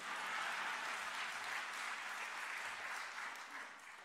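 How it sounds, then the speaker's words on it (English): Steady applause from a theater audience at a San Diego swearing-in celebration, loud and sustained for about four seconds before easing slightly at the end. "Oh, you can clap for that, I'll wait."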